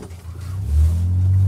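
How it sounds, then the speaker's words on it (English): A truck drives along a snowy road and approaches, its engine rising into a loud low rumble as it draws near. "Oops, here comes a truck."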